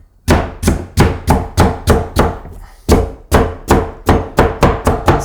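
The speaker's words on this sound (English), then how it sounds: "See, really can just keep chopping and the celery will stay in one place." An ulu knife chops celery steadily in a bowl, a rapid run of sharp, close thunks with one brief pause midway, then the chopping resumes.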